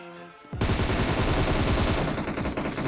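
Rapid automatic gunfire in the PUBG Mobile battle royale game bursts in loudly after a quiet moment and continues as a dense, sustained volley of shots for the rest of the clip.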